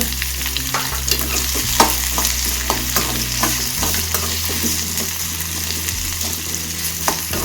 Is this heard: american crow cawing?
no